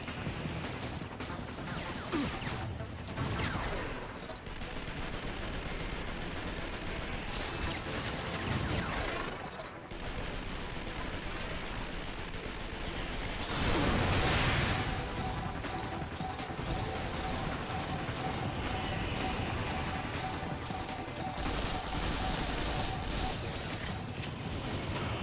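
Dense, continuous gunfire and mechanical clatter from the PS3 action game Vanquish roar at a steady loud level, with bursts of heavier blasts and metallic crashes swelling around the middle.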